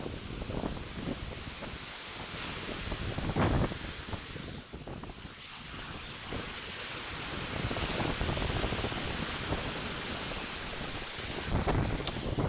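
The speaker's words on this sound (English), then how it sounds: "you can really hear the wind now" Hurricane Beryl's wind roars across a microphone along with rushing surf. The gusts are steady and buffeting, with harder bursts at times and no voices.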